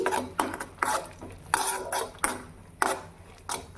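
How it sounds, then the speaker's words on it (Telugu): Pumpkin seeds and charoli nuts are stirred as they roast in a pan, a spoon scraping and clinking against the metal in repeated bursts with a faint dry rustle between strokes. "గుమ్మడి గింజ పప్పులు, సారపప్పు ఇవన్నీ వేసి వేయించుకోవాలి"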